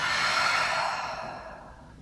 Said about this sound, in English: Exhale through your mouth. Inhale in. And exhale out.